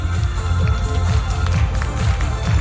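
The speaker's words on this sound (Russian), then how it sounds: "В вашу честь еще раз звучат аплодисменты наших зрителей." Festival audience in Chuvashia applauding a performing group, a dense, steady wash of clapping and crowd noise with no talk over it.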